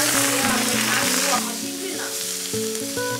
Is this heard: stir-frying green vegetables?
yes